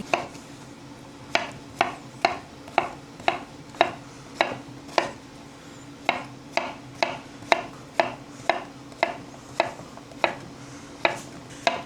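Knife strikes a cutting board in a steady series of sharp, evenly spaced chops, close by with no talking.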